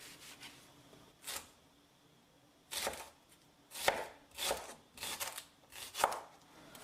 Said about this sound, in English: So I'll chop this up real quick and then we'll start blending.